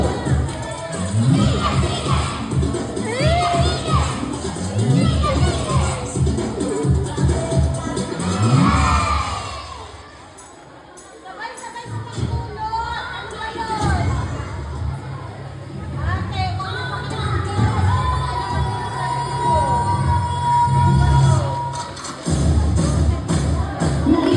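A crowd of children shouting and cheering at a school foundation day, loud close chanting and whoops that dip briefly into quieter chatter before surging back to full volume.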